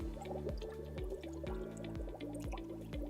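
Water flows into a tilted bottle as air bubbles rise out of it, a rhythmic glugging repeating about twice per second, close and fairly loud, with no talking.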